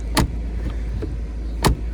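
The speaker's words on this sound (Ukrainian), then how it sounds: "Тільки послухайте, як дверка закривається." Door of a 2008 Volkswagen Sharan thumps shut twice, two sharp solid closing bangs about a second and a half apart, heard close with a faint click between them.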